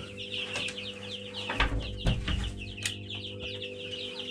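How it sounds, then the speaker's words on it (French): Several hens cluck and chirp softly in a continuous chatter, with a few rustles and thumps nearby. "Les poules. Les futurs poulets de chair."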